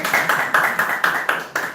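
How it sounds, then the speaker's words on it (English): A conference audience at a London tech panel claps in short rhythmic bursts, about six steady synchronized claps close to the microphone, with no voices over them. "Can we clap for them?"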